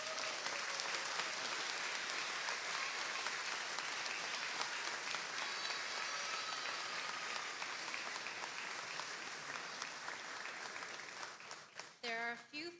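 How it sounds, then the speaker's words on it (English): Sustained applause from a graduation audience honoring faculty and staff, dense and steady for most of the span before thinning out and breaking into closer, scattered claps at the end. "let's give them a round of applause"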